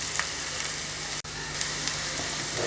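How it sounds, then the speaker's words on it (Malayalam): Onions frying in a pan while being stirred until translucent for a mushroom kadai: a steady, dense sizzle throughout, with small scattered crackles and one brief dropout in the middle, and no talk. "ഉള്ളിയുടെ ഒന്ന് നിറം മാറി വരുന്നത് വരെ ഒന്ന് നമുക്ക് ഇളക്കി കൊടുക്കാം"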